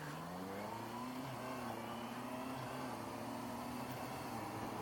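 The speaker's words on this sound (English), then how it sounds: "that's just me just accelerating gently" A Honda CB650F motorcycle accelerates gently, its engine note rising smoothly and steadily with faint wind rush throughout, heard from onboard at moderate level.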